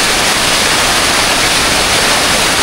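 A rushing stream flows along a climbing trail toward a series of lagoons, a loud, dense, unbroken roar of water that stays constant and close for the whole stretch.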